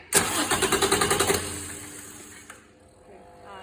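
A car engine cranks on the starter in a rapid, even rhythm of about a dozen pulses, catches and settles into a lower running hum, then a faint click and quieter tail follow.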